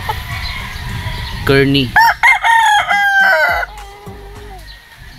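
A battlestag gamecock crows loudly and close on a gamefowl farm, one full drawn-out call with clucking after it and a brief voice near the start.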